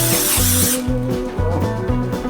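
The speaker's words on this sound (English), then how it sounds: "I'm going to use extra virgin olive oil spray and we're going to heavily spray it" Extra virgin olive oil cooking spray hissing from an aerosol can into an oven dish, one near continuous burst of about three quarters of a second, then quieter kitchen noise with a steady background hum.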